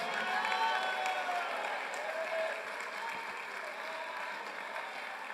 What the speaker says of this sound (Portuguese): Dê um aplauso com glórias a Deus.